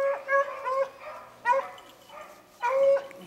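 Beagles bay during an Ohio rabbit hunt, giving out several drawn-out, yelping howls in uneven bursts. The baying is fairly close and clear, with short gaps between the calls.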